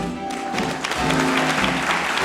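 Audience applause at an anniversary evening gala for Initiative Savoie, a dense steady clapping that swells slightly after the first second and holds loud and close, with faint voices mixed in.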